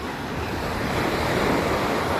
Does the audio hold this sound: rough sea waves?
yes